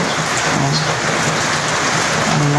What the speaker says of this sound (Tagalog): grabe ang ulan dito sa mga kasari